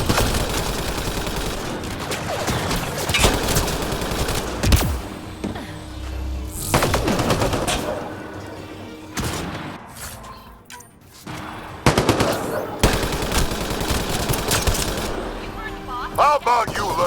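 Bursts of rapid gunfire and fusillades from a Mass Effect firefight on a krogan colony, loud and close, arriving in repeated volleys with short gaps and voices speaking between them.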